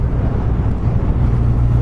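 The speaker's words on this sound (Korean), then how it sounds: "바람 소리가 너무 많이 들어온다" Loud, steady low rumble of wind buffeting a rider on a moving Honda CB1100RS motorcycle, with a helmet that lets in a lot of wind noise, continuous throughout with no talking.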